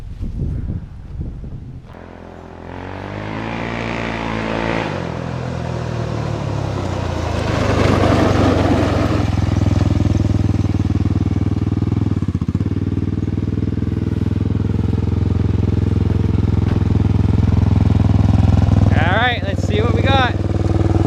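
A Honda 400ex ATV engine revs up to its top speed on stock sprockets, a loud rising buzzing roar mixed with wind rush that holds steady at full throttle, with a voice briefly heard early on.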